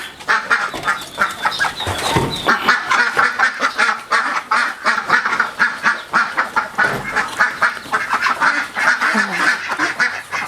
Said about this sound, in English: And now this is a duck pen.